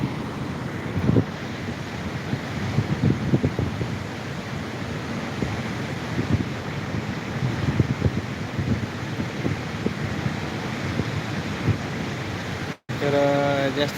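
Constant broad rushing of the flooded Manjara river's fast-flowing water with wind buffeting the microphone, continuous throughout, ending with a short voice.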